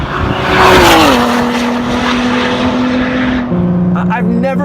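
Ford GT with its V6 engine roaring loudly while driving, a sustained strong note that drops in pitch as it shifts, then settles into a steady drone with a voice briefly audible near the end.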